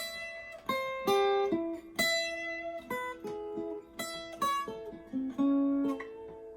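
A melodic instrumental solo moving through changing chord shapes, with plucked notes ringing and sliding between positions at a steady, unhurried pace.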